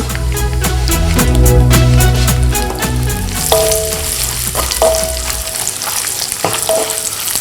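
Raisins fry in hot fat for a sweet bottle gourd halwa, with a steady loud sizzle and crackle plus the scrape of stirring, continuous and close throughout.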